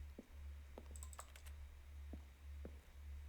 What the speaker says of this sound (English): A selection of the sounds used throughout the game when buttons are pressed. Each sound is a mix of a keyboard stroke and a synth.